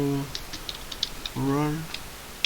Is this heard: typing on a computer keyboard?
yes